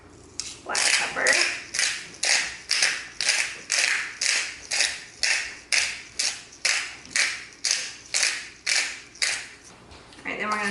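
Black pepper is ground from a mill over a pasta salad, giving about fourteen evenly spaced, rasping crunchy twists, loud and close, with no talking over them.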